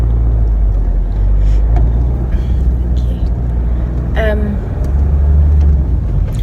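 Car driving through busy morning traffic: a steady low engine and road rumble from inside the vehicle, with a brief passing horn-like tone midway and faint speech.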